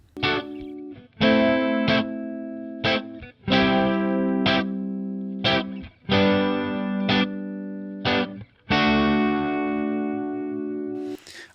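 An electric guitar through a Line 6 Helix amp and effects processor rings out warm, sustained chords, about a dozen struck in a steady rhythm of pairs, each decaying slowly with a reverb tail, clear and alone.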